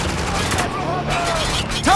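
Rifle fire rattles through a firefight in the video game Spec Ops: The Line, with rapid loud bursts and booming impacts mixed with shouted voices.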